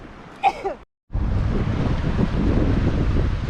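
Steady wind and water wash beside Highway 89 in Utah, a broad continuous rush close to the microphone after a brief voice and a short dropout at the start.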